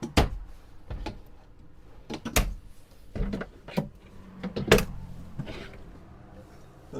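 Camper drawers and cabinets in a 2025 Jay Feather Air 18MBH are opened and shut one after another, giving sharp close knocks and slides separated by brief quiet.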